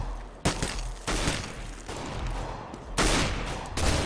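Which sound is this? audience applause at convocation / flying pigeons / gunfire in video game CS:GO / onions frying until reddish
gunfire in video game CS:GO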